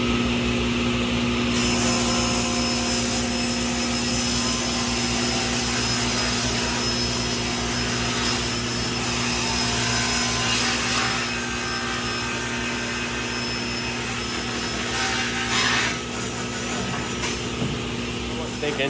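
Table saw blade ripping through a wood board for a cornhole board build in a workshop, a steady loud whining drone lasting throughout with slight shifts in pitch as the cut progresses, no talk over it.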